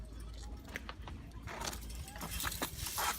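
Keys jangle in brief metallic bursts inside an abandoned hotel, mixed with rustling movement and voices nearby, the clinks scattered across the moment rather than forming a steady rhythm.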